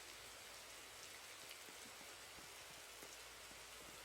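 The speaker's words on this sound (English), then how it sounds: "It's raining." Steady rain falls in the Sol's RNG video game, an even, dense hiss of drops on surfaces with no other sounds standing out.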